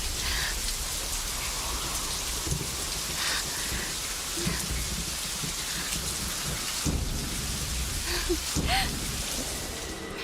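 Steady heavy rain pours down in a dense hiss, with low rumbles of thunder rolling beneath it and no one speaking.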